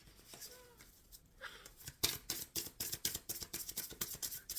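Tarot cards are shuffled by hand in a quick, rhythmic series of crisp riffling snaps, close and fairly quiet, following a few soft handling sounds.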